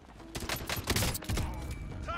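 Pistol gunfire in the battle royale game Warzone: several quick, sharp shots in short clusters over busy in-game noise.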